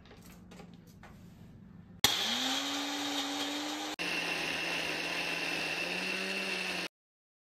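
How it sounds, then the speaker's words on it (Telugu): A kitchen juicer, used in place of a broken mixer jar, grinds ingredients into a paste. Its motor whirs loudly in two long bursts, then cuts off abruptly, after a quieter opening stretch. "అందువల్ల జ్యూసర్లోనే నేను అన్నీ చేసుకోవాల్సి వస్తుంది."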